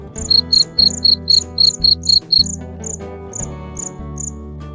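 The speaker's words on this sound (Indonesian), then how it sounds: "Stridulasi membawa kenangan tersendiri dan menciptakan seperti suasana malam yang tenang di musim" Farmed crickets on a commercial cricket farm in America, trilling by stridulation in loud, close, evenly spaced chirp bursts that soften into sparser, fainter chirps, over a low steady machine hum.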